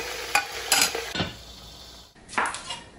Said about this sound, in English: So now you want to add all this meat. and brown it.